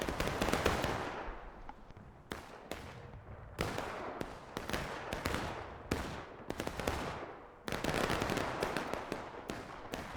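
Long-range musket volleys crackle in a War of Rights battle, repeated bursts of rapid distant shots fired from two sides, each burst fading with echo before the next.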